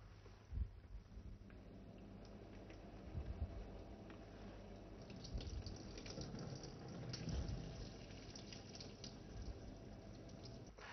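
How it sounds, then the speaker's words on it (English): Water is flushed backward through the permeate line of a membrane filtration rig used to harvest microalgae, giving a steady, moderately faint rushing and gurgling flow that carries on throughout with no voices. "Water is flushed on reverse mode on the permeate line and while blocking the other permeate"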